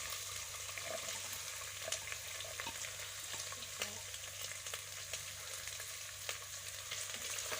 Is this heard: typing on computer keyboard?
no